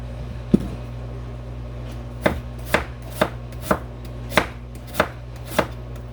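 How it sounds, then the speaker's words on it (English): Ingredients for Pollo Loco are chopped with a knife on a board: one sharp knock, then after a pause seven evenly spaced, crisp chops, close and loud over a steady kitchen hum. "I'm just chopping what I think it would be"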